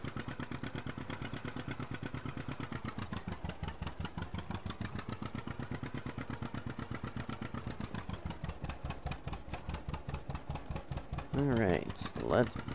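Tractor engine running in a farming game while being shifted up to fourth gear, a steady low pulsing chug with even rhythmic firing that stays constant, under someone talking.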